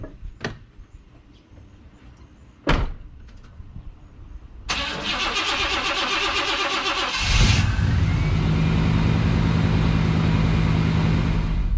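An old high-mileage Chevy truck's small-block engine starts: a couple of clicks, then the starter cranks for a few seconds before the engine catches and settles into a loud, steady, rough idle close by.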